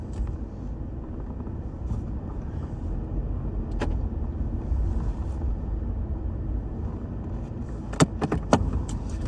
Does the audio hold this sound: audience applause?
no